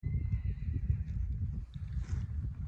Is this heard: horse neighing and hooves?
yes